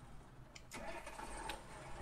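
Tractor engine of a KhTZ T-150K in a farming video game mod, starting up and settling into a steady mid-pitched running drone, fairly quiet and alone.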